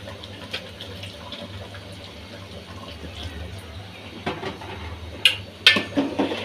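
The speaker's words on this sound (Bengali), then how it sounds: "এখন পানিটা দিয়ে দিই" Water poured into a simmering curry of beef, bottle gourd and chickpea lentils, a steady close splashing stream over a low hum, ending in a few louder splashes and pot clatters.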